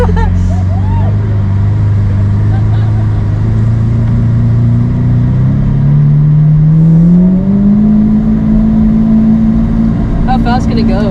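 A car engine revs loudly and steadily close by, its pitch climbing partway through and holding high, with people talking over it inside the vehicle.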